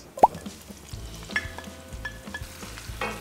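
Onions dropped into a pan of light-browned garlic fry with a soft, steady sizzle, punctuated by a sharp plop and a few faint stirring clinks, close and quiet with no voices.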